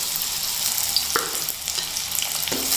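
Chopped onions sizzle steadily in hot oil in a pan, a close, constant frying hiss with a few sharper stirring pops and no talk.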